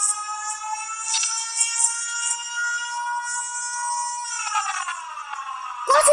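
A siren wails steadily and loudly throughout, its pitch sliding down near the end before a sharp burst cuts in at the very close; no speech.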